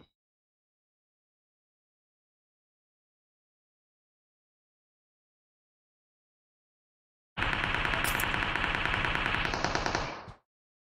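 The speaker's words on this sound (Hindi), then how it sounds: "हाँ चल रही गोलियां" A burst of rapid automatic gunfire in PUBG Mobile erupts after a long silence, loud and continuous for about three seconds before cutting off.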